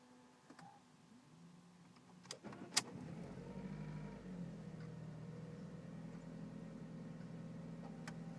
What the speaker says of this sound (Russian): Пробуем завести двигатель.